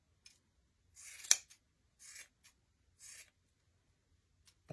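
Scissors snip and trim a yarn pom pom in short, faint bursts of quiet cutting and rustling with pauses between them, heard close up in a quiet room.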